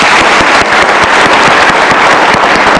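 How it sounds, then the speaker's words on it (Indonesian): Loud, dense applause from a studio audience at a televised talk show, continuous and close throughout, with sharp individual claps standing out from the wash. "Kita kasih tepuk tangan dong untuk Romo."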